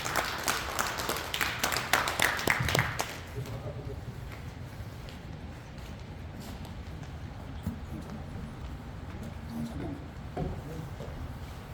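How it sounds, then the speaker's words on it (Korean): Audience applause welcomes a guest lecturer at a Busan citizens' forum held at the Saha District Office, a dense burst of clapping for about three seconds that fades into room noise and a voice. "그 박수로 환영합니다"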